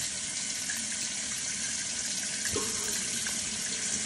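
Water runs steadily from a tap into a sink, a constant, close, loud rushing with no break and no talking.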